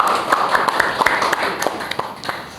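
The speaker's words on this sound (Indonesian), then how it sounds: "Tepuk tangan semuanya." A talk show audience greets the guest with scattered, distinct handclaps, a small group clapping at an uneven pace for a couple of seconds with a faint background bed beneath.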